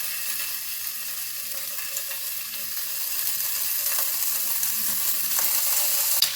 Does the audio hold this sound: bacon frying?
yes